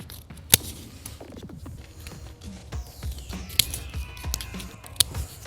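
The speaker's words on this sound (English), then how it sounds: "Now you got a pattern you can take and simply cut out." Scissors cutting a paper pattern for a homemade automotive gasket, with sparse close snips and crisp clicks scattered among soft rustling and handling of the material.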